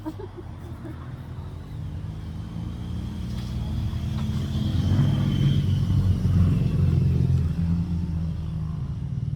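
Car traffic rumbles past beside a garden where sponge gourds are harvested, a low engine drone that swells midway and stays steady, with no talk over it.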